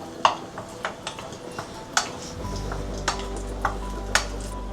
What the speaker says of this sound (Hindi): मैंने हाफ टेबल स्पून इनको रोस्ट कर रही हूँ अब डेट्स को